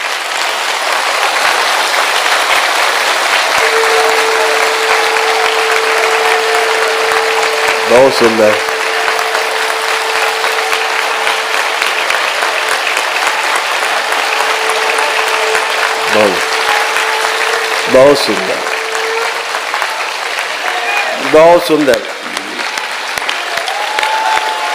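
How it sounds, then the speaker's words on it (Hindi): Devotees at a darbar clapping and applauding, a dense steady crowd of applause lasting throughout, loud and close, with a voice speaking and a sustained tone sounding over it. "तो जितनी मस्ती आई उतनी कस के ताली बजा दी जाए।"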